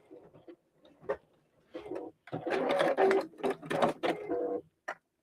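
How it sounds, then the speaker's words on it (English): A sewing machine top-stitches fabric in short, uneven bursts of rapid mechanical ticking and whirring, close and clear, with brief pauses between runs and no talking. "it also looks quite nice when you do a little bit of top stitching"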